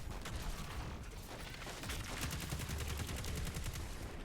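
Rapid gunfire from a Destiny 2 Lightfall firefight, dense bursts of shots crackling steadily throughout with no pauses, loud and close, layered over game effects.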